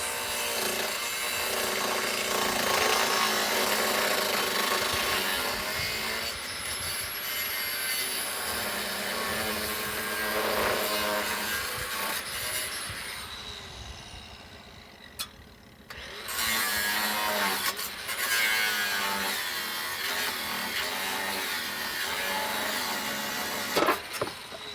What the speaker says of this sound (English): cut the top bolt and simulate opening